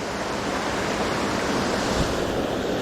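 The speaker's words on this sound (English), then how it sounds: "up there is the waterfall I was filming earlier" A small waterfall pours steadily into a little pool on private land, giving a loud, unbroken rushing wash of water that holds level the whole time with no voices.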